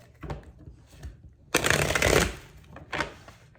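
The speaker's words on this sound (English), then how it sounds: "Let's do a quick shuffle." Deck of cards being shuffled close by, a few soft riffles and then one dense rapid burst of flicking cards, followed by a short tap, with no talking.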